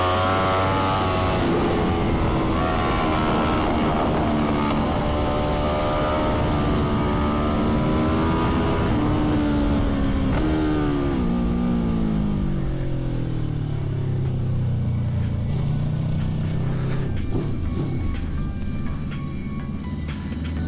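Aprilia X-GP racing motorcycle ridden at speed on a race track: a loud, continuous engine howl that climbs and drops in pitch through gear changes, then winds down toward the end.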